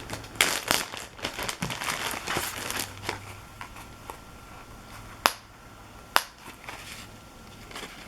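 Plastic bag holding flea market junk journal supplies rustles and crinkles up close in dense bursts, then settles into a quieter stretch broken by two sharp crackles, with no talking.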